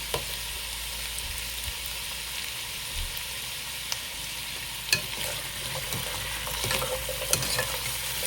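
Pork ribs frying in a pan give a steady, even sizzle, broken by a few light clicks and taps from turning the pieces, close and without voices.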